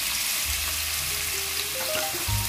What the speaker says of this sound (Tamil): இது நல்லா நம்ம fry பண்ணிக்கலாம்.